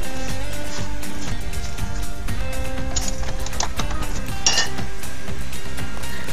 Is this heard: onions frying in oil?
yes